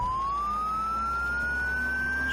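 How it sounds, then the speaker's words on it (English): An ambulance siren in the zombie survival game Project Zomboid wails with a slowly rising tone over a steady engine hum, loud and unbroken, with no talk. "once we get to the turn, we'll turn the siren off"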